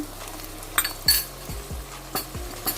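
Chicken sizzles in a pan with green chillies and coriander while a spoon stirs it, several sharp scrapes and clinks of metal sounding over a soft, constant frying hiss.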